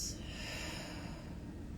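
A soft breath out during a guided yoga breathing exercise, a brief airy exhale close to the microphone that fades quickly, with no talking.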